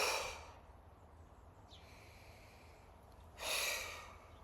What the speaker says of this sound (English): sometimes to release anxiety and bent up energy, you might want to exhale in a hard way